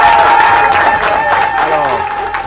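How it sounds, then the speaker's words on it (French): Applause for the head of state at a memorial gathering for Victor Batubenga: a short burst of crowd clapping mixed with voices and a tonal backdrop, loud and close for about two seconds. "pour cela nous devons applaudir au chef de l'État"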